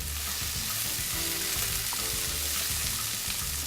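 Garlic and chili fry in a pan for rigatoni alla vodka, giving a steady close sizzle with soft crackles and light stirring, alone without talk.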